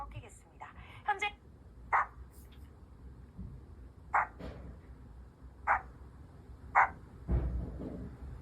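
Dog barks from a pet dog played back during a demonstration of a baby-cry detection app, several short sharp yaps spaced a second or two apart, moderately close over a low background hum.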